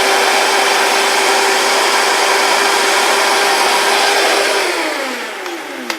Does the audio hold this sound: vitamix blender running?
yes